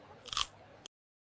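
A crunchy bite into a deep-fried helmet, a short crisp crackling crunch close up, followed by a sharp snap and then silence.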